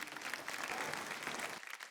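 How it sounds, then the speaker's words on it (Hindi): A studio audience on a folk singing reality show breaks into loud, dense applause that holds steady for under two seconds. "हमारे गुरु, गुरुजन, गुरुवर, भाई जोरदार तालियां।"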